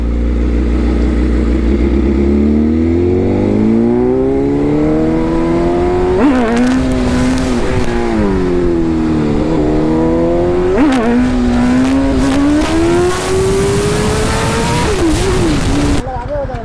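A sport motorcycle engine revs hard through a long wheelie on an open road, a loud, steady engine tone climbing in pitch across several gears with brief dips at each shift, close and continuous.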